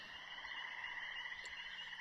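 Frog croaking in a natural ecosystem, a faint, close series of rhythmic low pulsing croaks over a steady high insect-like hum.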